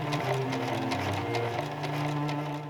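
Sewing machine stitching a gathered dress section into an inner waistband belt for a flying-dress cosplay, a steady continuous mechanical whir with rapid needle ticks at close range, no talk.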